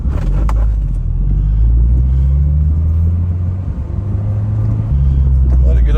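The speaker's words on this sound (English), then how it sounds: "I'm having to do a quick test drive" A 2006 Honda S2000 on a test drive, its engine droning steadily with low rumble and shifting tone as it accelerates, road noise continuous throughout.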